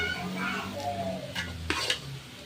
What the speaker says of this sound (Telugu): తర్వాత ఉడికించిన రైస్ని తిండులో వేసుకొని మంచిగా కలుపుకోవాలి.